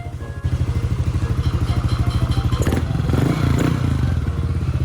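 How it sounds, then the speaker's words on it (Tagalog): A motorcycle exhaust idles close up with a steady, rapid thumping putter, briefly rising in pitch before settling again. "Parinig ko sa inyo ang tambucho."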